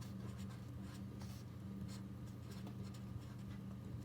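Marker or chalk scratching across a board as common factors are written out, faint steady strokes over a humming room background.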